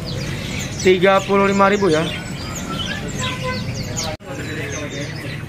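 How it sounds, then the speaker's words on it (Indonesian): Kaso-kaso birds chirp and call among other caged birds at a bird market, a burst of clear harmonic whistles standing out briefly amid a busy chorus of tweets, with someone talking over the din. "Di depan kita ini ada burung kaso-kaso."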